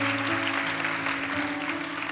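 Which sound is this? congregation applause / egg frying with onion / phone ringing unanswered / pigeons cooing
congregation applause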